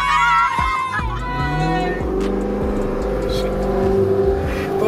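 A BMW M2 revving, loud engine roar with rising and falling pitch close by, amid chatter from a small crowd including children.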